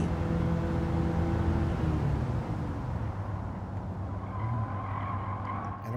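Racing car in Gran Turismo 7 braking hard, a loud continuous engine roar with tyres skidding and squealing, the pitch dropping as the car slows; no one speaks over it.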